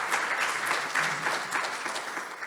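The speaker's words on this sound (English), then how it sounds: "can we give another round of applause for the video?" Brief burst of audience applause, dense and even clapping from a crowd, steady throughout with no talk.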